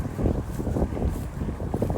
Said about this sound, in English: Fairly windy,